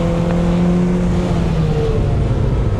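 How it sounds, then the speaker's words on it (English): A 2.5L-swapped Mazda Miata NC engine runs loudly on a race track at Grattan Raceway, holding a steady, close whirring drone with no talk. "Now that the car's moving, it really does love to rev."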